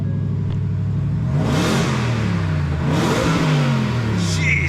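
A 700-horsepower Ford Raptor R pickup's V8 revs hard in several rising and falling bursts, a deep throaty roar swelling up and dropping back, close and loud.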